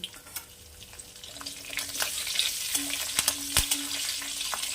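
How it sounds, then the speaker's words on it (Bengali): Nigella seeds and halved and whole green chillies sizzling in hot oil, a loud steady fry with crackles and sharp pops close up. No one speaks. "অল্প একটু কালো জিরা ফোড়ন, দিয়ে দেব কাঁচা লঙ্কা।"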